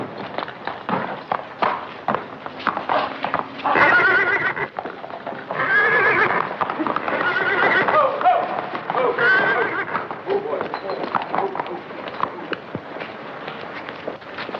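A horse neighs and whinnies loudly in an old 1944 western film, with clip-clopping hooves and scuffling movement around it, the whinnies rising in bursts over a busy outdoor scene.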